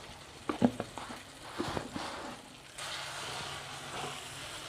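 A spiced curry mixture for a Bengali paneer kalia sautéing in a pan, a few clinks and stirs early on, then a soft, steady sizzle for the rest.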